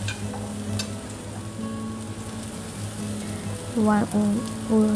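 Ginger, garlic and onion sautéing in a pan on a home stove, a steady crackling sizzle with occasional stirring scrapes and a low background hum.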